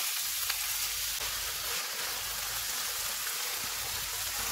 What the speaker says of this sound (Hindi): 500 ग्राम बीफ का कीमा डालेंगे और इसको 4 से 5 मिनट तक भूनेंगे।